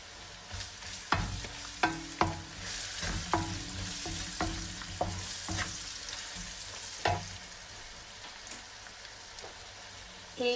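Crushed garlic dropped into a hot frying pan with salt and garam masala and stirred, giving a steady sizzle broken by repeated scraping, clattering spoon strokes, close and moderately loud, with no talking.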